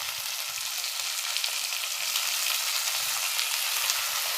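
Tomato pieces fry steadily in a pan for a tangy Andhra charu, giving a continuous, close, moderately loud sizzle with occasional soft low clatters of stirring and no talk.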